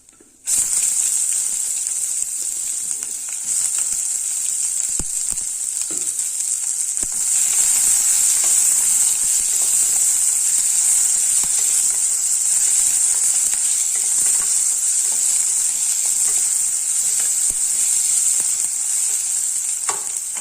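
Onions dropped into hot oil for tomato rice give a loud, continuous hissing sizzle close by, swelling slightly partway through and holding steady, with faint stirring scrapes underneath.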